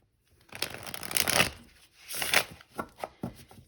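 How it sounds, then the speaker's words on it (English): A tarot card deck being shuffled at close range in a quiet room, with two bursts of riffling and crisp papery flutter followed by several short, soft taps as the cards settle. "We're going to shuffle the deck"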